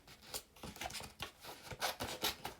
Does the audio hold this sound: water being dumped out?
no